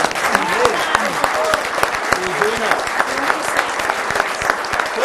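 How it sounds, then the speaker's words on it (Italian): Lively applause from a crowd at an Italian motorcycle federation event, dense clapping sustained throughout with voices and whistle-like calls mixed in. "Un applauso"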